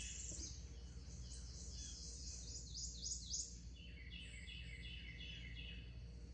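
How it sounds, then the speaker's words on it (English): Birds chirp and trill in repeated quick phrases at a moderate distance beside the Alabama River, with faint insect buzzing and quiet outdoor ambience underneath. "Nothing going on here but the birds and the animals."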